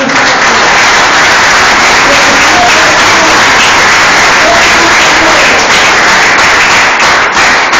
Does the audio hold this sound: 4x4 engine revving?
no